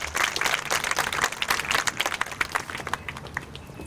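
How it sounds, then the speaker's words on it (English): An audience at a school graduation ceremony claps for a volunteer, a dense round of applause from many hands that stays lively and then begins to thin toward the end. "Please give her a round of applause as one of our volunteers."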